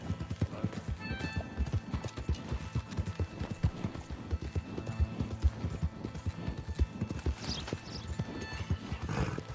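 Horse hooves in Red Dead Redemption galloping in a rapid, steady clip-clop rhythm, faint and continuous, with a brief whinny.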